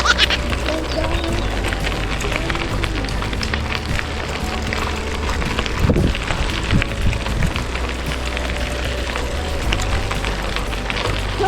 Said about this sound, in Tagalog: Oh, lakas ng hangin ah.